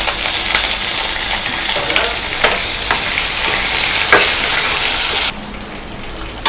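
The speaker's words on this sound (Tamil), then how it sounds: "இப்போ வெங்காயம், வரமிளகாய், கருவேப்பிலை எல்லாத்தையுமே நம்ம போட்டு நல்லா தாளிச்சுக்கலாம்." Onion, dried red chilli and curry leaves are tempered in hot oil, giving a loud, steady sizzle with stirring clatter close by that drops to a quieter fry near the end.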